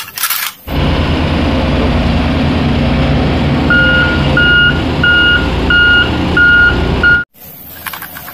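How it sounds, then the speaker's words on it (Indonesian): A tanker truck reverses with steady rhythmic backup beeps repeating about every half second over loud continuous engine rumble, close by. "Wis truk tangki lagi teman-teman"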